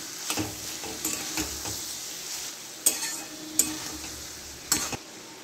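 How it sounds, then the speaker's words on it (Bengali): Spice masala sautéed in oil with soybean chunks for a soybean and potato curry: a soft, continuous sizzle broken by several sharp spoon knocks and scrapes against the pan, no talking. "যতক্ষণ না তেল ছাড়ছে ততক্ষণ আমি কষে যাব"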